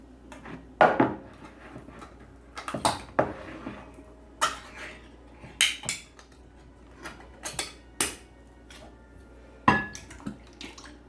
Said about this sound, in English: So we're just going to take our fried peaches and we're going to dump them in here.